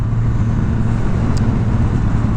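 A 2021 Kawasaki ZX-10R engine hums steadily while riding in third gear, a loud continuous low drone with wind noise throughout.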